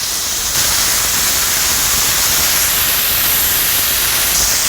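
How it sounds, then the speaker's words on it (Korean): Potato slices being stir-fried in a pan over medium heat, a loud, dense, steady hiss of sizzling oil that swells slightly after the first half second and holds evenly throughout, close up with no voices. "은근하게 해서 감자를 충분히 익을 때까지 볶아주세요"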